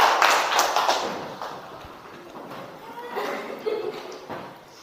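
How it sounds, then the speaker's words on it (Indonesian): A class of sixth-grade children clapping in a classroom, a burst of hand claps that starts loud and thins out, with a teacher's voice over it. "Oke, tepuk tangan."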